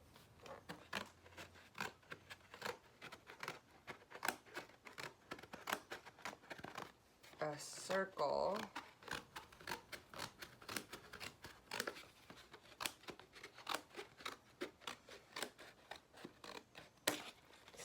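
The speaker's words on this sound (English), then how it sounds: "I'm really far away from the inside of the scissors. And I'm just going to start cutting" Scissors cut a hole in a paper plate with a steady run of soft, close snips and crinkles, faint and repeated, and a brief spoken remark partway through.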